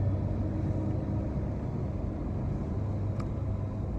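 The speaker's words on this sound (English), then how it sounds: "Hear the truck, man." A vehicle engine rumbles steadily and low, a constant drone as if heard from inside the cab, with no other sounds.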